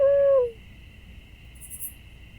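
A single clear, tonal bird call from the game Super Auto Pets rings out briefly at the start, then fades into near silence with a faint high chirp afterward.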